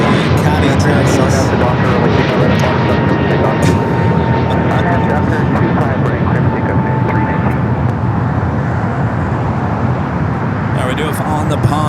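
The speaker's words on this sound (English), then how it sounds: "Dreamliner heading to the north side" A Boeing 787 Dreamliner at Los Angeles airport gives a loud, sustained jet engine roar that holds steady for the whole stretch, with a faint tonal whine running through it.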